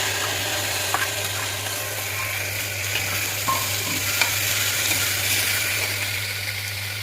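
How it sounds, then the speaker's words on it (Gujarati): Vegetables dropped into hot oil with asafoetida and curry leaves for a tempered khichdi give a steady, close sizzle and frying hiss throughout, with a few small pops and stirring clicks and no voices. "થોડી હિંગ, લીલો લીમડો અને જે બધું આપણે મિક્સ કરેલું સબ્જી એને સારી રીતે એડ કરી દઈશું"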